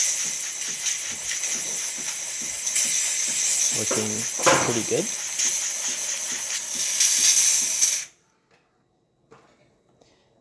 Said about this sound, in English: Then we are going to test steam.